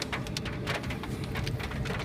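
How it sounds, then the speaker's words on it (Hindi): Steady rain falling in a town during a downpour, a dense, even hiss of drops spattering on surfaces, close and continuous without a break. "लोग यहाँ इस बारिश को एंजॉय करते हैं"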